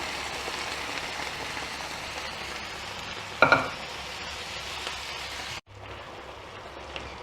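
Cooked white chickpeas, carrot and potato go into a pan with their cooking water for a white chana kurma. A steady sizzle runs throughout, with a sharp splash and clatter midway, before the sound cuts to quieter frying.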